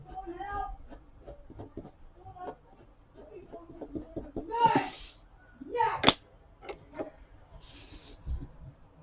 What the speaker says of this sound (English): Sorry if you hear my kids in the background.